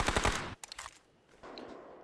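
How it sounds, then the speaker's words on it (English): Gunfire in the battle royale game PUBG during a tournament match, a rapid burst of automatic shots followed by scattered single cracks and a renewed volley, fairly quiet and distant, with no talk. "You could hear the multiple guns"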